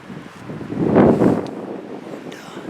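Strong 20-mile-an-hour wind on a cold 25-degree day during Pennsylvania rifle deer season, rushing across the mic in a broad roar that swells to a peak mid-gust and then eases off.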